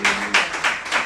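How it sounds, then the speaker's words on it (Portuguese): A church congregation claps for the Lord during a worship service, four distinct loud claps spaced roughly evenly in a short burst. "Aplauda o Senhor com o seu melhor."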